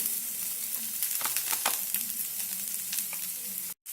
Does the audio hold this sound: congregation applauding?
no